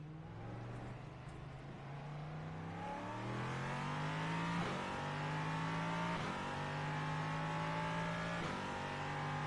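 Race car engines in the iRacing sim racing game, a steady loud engine note climbing in pitch through repeated gear shifts, with a second car's engine mixed in, continuous and without talk.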